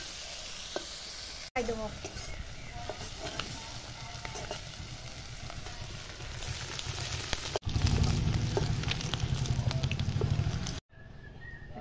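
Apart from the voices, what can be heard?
frying jackfruit pieces coated in salt and turmeric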